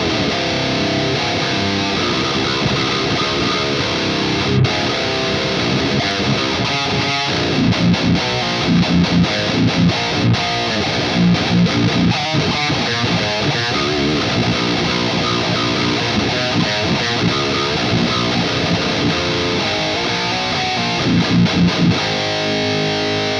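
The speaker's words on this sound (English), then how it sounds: "listen to the setting that I really dug, which was the Mark II C Plus Heavy Rhythm using the Mesa Traditional cab" High-gain electric guitar through a Neural Amp Modeler capture of a Mesa/Boogie Mark IIC+ on its heavy rhythm setting with a Mesa traditional cabinet, playing dense, loud distorted riffs with palm-muted chugs and chords throughout, no voices.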